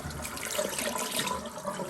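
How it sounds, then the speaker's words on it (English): Tap water runs steadily into a sink as hands are washed with soap, a continuous close splashing hiss with small fluctuations from hands moving under the stream. "So I'm washing my hands"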